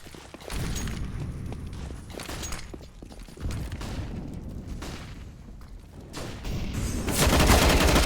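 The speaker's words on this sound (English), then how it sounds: "Oh, machine gun." Machine gun fire and other gunshots ring out during a competitive Counter-Strike match on the Train map, with loud rapid bursts and booms overlapping one another and growing heavier toward the end, with no voices.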